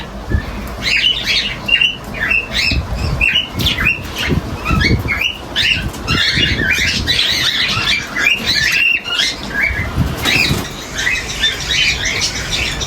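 Many small cockatiels squawk and chirp in a busy, continuous chatter, with scattered rustling and fluttering close by.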